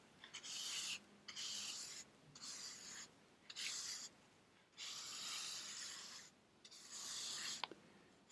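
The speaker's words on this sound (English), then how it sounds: "I think we'll first remove the majority of this sand and then towards the end we will give it a proper clean up brushing." Brush strokes sweep loose sand off a book-inspired map in repeated soft, raspy bursts of about a second each, separated by brief pauses, close and quiet with no talking.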